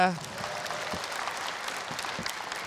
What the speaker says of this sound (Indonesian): Boleh tepuk tangan sekali lagi untuk Oki Rengga.